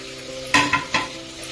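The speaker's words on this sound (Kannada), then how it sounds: "ಇದನ್ನು ಒಳಗಡೆ ಹಾಕೊಂಡು ಒಂದು ಸ್ವಲ್ಪ ಹೊತ್ತು ಫ್ರೈ ಮಾಡ್ಕೊಳ್ಳೋಣ, ಒಂದು 5 ನಿಮಿಷ" Double beans stirred in a pan, with three short scraping and sizzling bursts close by over a low background hum, no talking.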